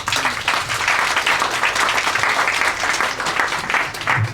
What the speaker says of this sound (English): Giving another big applause to Andy for such a long journey to give such a wonderful, insightful speech.